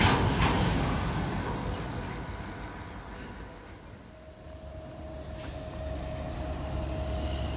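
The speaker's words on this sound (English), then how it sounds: "here comes that CSX train with 364 axles. I can hear him." A CSX freight train with 364 axles rumbles past close by, a heavy continuous roar with faint wheel clatter that eases slightly midway, then builds again.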